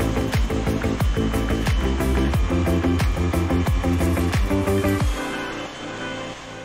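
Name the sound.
drilling holes in fire bowl plates with a drill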